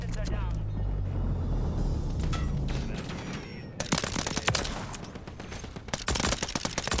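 Core 45 pistol fire in Modern Warfare 3: quieter game ambience first, then a run of sharp, rapid shots in quick bursts, with a voice talking alongside.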